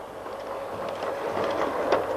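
A model train set runs on a carpet in front of a fire, giving a steady, soft rolling rumble with faint clicking over a continuous low hum, fairly even throughout.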